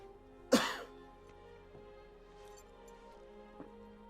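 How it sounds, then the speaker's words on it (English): A single sharp, close cough bursts out near the start, followed by a quiet stretch with faint low hum and a couple of soft ticks. "I don't know why I'm coughing so badly."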